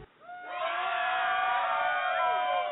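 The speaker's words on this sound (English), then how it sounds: "We got a round of applause we can give Sandra Bland." A studio audience at an adult night-time talk show cheers and whoops for Sandra Bland, a swell of many excited voices rising quickly and staying loud and bright for a few seconds.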